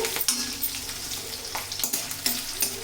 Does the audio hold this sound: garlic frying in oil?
yes